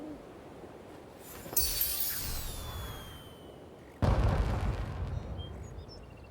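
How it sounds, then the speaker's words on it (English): Two booming firework blasts in the video game Infinity Nikki, a few seconds apart, each followed by a crackling, sizzling tail and glittery tinkling, moderately distant and without voices. "What a beautiful firework. So dazzling yet fleeting."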